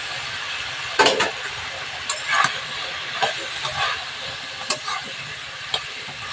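Vegetables sizzle and hiss in oil with spices in a pan, a steady frying hiss broken by a few sharp crackles and stirring clatters, with no talk.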